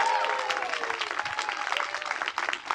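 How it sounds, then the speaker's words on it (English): Students at a fifth-grade moving-up ceremony cheer and clap for their teachers, a dense burst of applause with scattered shouts and whistles running throughout, a voice faintly audible underneath. "Can you give a little shout or jump up and clap?"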